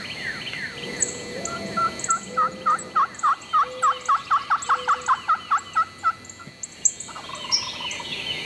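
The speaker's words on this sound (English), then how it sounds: "Fixing to go after a few gobblers right here on the farm." Wild turkeys on a farm field, a rapid series of about fifteen rhythmic gobbling and clucking calls, moderately near, with other birds chirping in the background.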